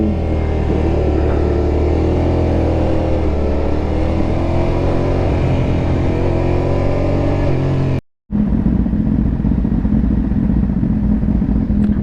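A BMW S1000RR sport bike engine drones continuously while riding, loud and close with wind rumble, cutting out briefly before a lower steady engine hum returns.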